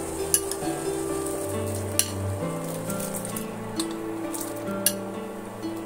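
Soaked, washed sago pearls stirred into milk that has been simmering about twenty minutes for sagu payesh, giving a soft bubbling sizzle with faint scraping clinks of a spoon against the pot at a steady, unhurried pace.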